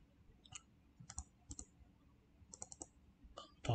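Faint computer mouse clicks while working in Excel, including quick double clicks, sparse and close in a quiet room.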